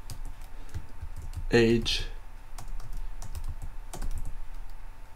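Rapid clicking keystrokes on a computer keyboard while code is typed, steady and close, with a short spoken word breaking in partway through.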